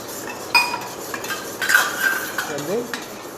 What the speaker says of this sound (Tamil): ஸ்பூனில் நல்லா கலக்கிடுறீங்க இதையை